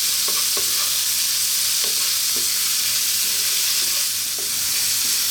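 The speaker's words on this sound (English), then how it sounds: "We're kind of stir frying this at the moment." Steady sizzling of bell peppers stir-frying in a hot pan, with occasional soft scraping and tapping as they are stirred, close and continuous with no talking.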